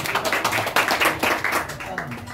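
A crowd claps for the event committee at a church community fellowship gathering, a brief burst of scattered applause mixed with a speaking voice.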